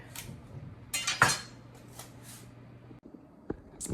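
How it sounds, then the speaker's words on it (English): A metal baking sheet is pulled out in a kitchen, giving a few light clanks and a sharp clatter with brief rattles, close and fairly quiet, with no talking. "I'm gonna take out a baking sheet"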